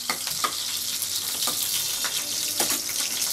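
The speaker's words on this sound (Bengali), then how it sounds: "পেঁয়াজ মরিচগুলো হালকা করে ভেজে নিচ্ছি।" Onions and chilies frying in oil in a wok for a fish curry give a steady, close sizzle with a few brief crackles and pops. The sizzle continues throughout and no one speaks.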